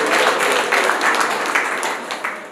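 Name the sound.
wedding guests applauding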